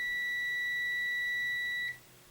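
A multimeter continuity-test beep, steady and high-pitched, holds for nearly two seconds, then cuts off abruptly, leaving quiet background hiss.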